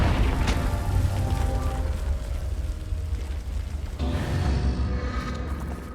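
Explosive curse cast in the video game Hogwarts Legacy, producing a heavy booming blast with a rumbling low roar that sustains and swells again partway through.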